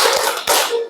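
Two sharp hand claps from a classroom 'tepuk fokus' clap routine, close and loud with bright crackly reverb, spaced about half a second apart, no talking.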